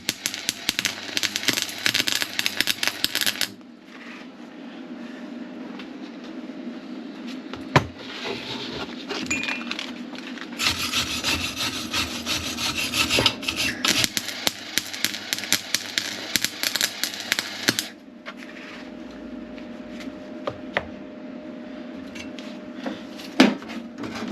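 Tack welding a captive nut onto a steel tow bar plate for a camper, with bursts of buzzing crackle separated by quiet pauses, fairly faint, plus a few small metallic clicks.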